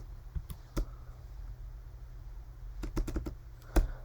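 Keys tapped on a computer keyboard while entering a URL, a few scattered clicks then a quick cluster of keystrokes, close and fairly quiet over low background hum, no talking.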